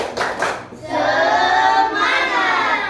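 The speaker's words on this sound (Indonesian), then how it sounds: "Ya, tepuk semangat dulu. Tepuk semangat." A seated audience at an Indonesian teacher-training classroom session performs the 'tepuk semangat' clapping icebreaker: a quick burst of rhythmic group claps, then a loud sustained collective shout of voices.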